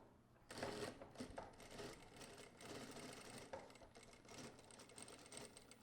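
A sewing machine runs steadily and close by, stitching a seam on a garment being assembled, with an even whirring drone that starts abruptly and holds without pauses or talk.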